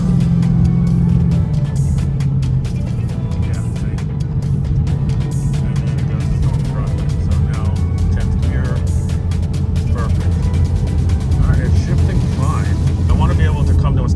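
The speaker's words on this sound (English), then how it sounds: "Now this transmission shifts totally different from on this tune. It will hold the gears out long." A 2020 Ford Mustang GT with a centrifugal supercharger accelerates, its engine drone loud and close, holding each gear long before shifting, with a noticeable change in pitch near the start.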